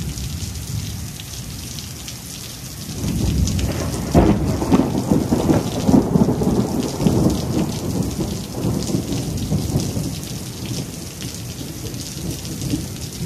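Steady rain patters while a deep roll of thunder swells in after a few seconds, rumbling loudly and lingering before slowly easing under the continuing downpour.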